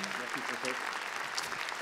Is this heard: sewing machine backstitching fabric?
no